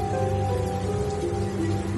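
Steady rain falls in a Hindi horror cartoon, a constant even hiss with a low rumble and no break, with no talking.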